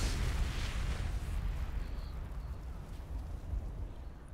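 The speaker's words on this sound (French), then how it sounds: "Explosion." A loud explosion booms in Castlevania: Lords of Shadow 2, a heavy low rumble that starts strong and slowly fades while the noise lingers.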